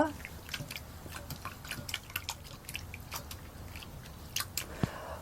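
Oysters are kneaded and rubbed with sea salt in cold water, making faint, wet squelching and dripping sounds in soft repeated bursts, close up and quiet.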